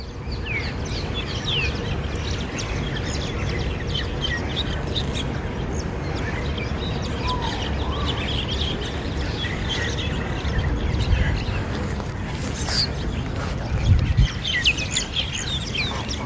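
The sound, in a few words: ducks at an oceanfront park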